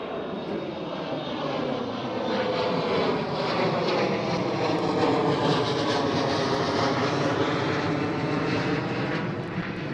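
A KLM Cityhopper Embraer E175 jet takes off at Amsterdam Schiphol, a loud, steady roar of engines with broad rumble and whine holding constant throughout, no speech.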